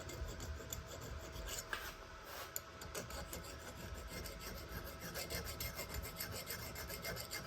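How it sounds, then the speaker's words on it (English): A metal file rasps excess solder off threaded gun receiver parts in close, repeated scraping strokes at a steady rhythm, with an occasional sharp tick and no talking. "That excess solder filed off of there so we get a good"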